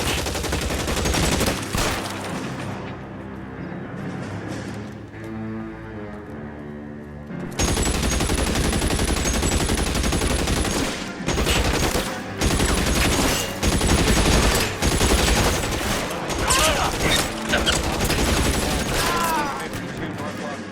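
Sustained gunfire in the L.A. Noire crime game during a narcotics raid shootout: dense bursts of shots and rapid fire over game music, with a voice speaking over part of it.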